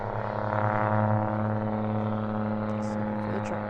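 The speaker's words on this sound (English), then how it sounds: "Sorry for the truck noise." A truck rumbles past with a steady, loud low engine drone that swells slightly and then holds, heard outdoors in a front-yard garden in early March.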